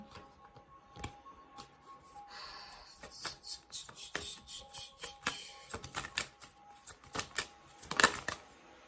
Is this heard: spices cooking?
no